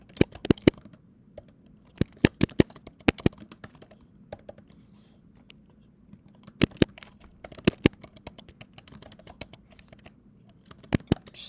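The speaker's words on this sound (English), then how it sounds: "Just enjoy the sound of me typing" Computer keyboard typing in irregular bursts of crisp key clicks, close up, with short quiet pauses between flurries.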